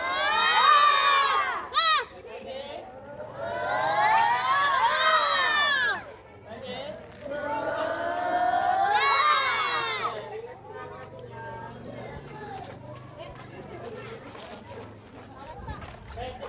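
Schoolchildren shout and cheer together during a physical education class, several loud bursts of massed young voices rising and falling, with chatter and a teacher's spoken instructions in between.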